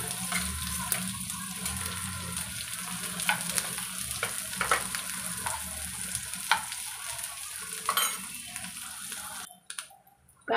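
Two medium onions, cut thick, fry in a pan with a dense, steady sizzle and frequent crackling pops close by, stirring clicks scattered throughout, before the sound cuts out abruptly near the end.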